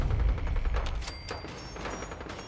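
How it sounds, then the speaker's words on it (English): Gunfire in the video game Fallout 4 crackles in several sharp bursts of varying loudness, some sounding distant, over a rumbling low background. "I do hear gunfire."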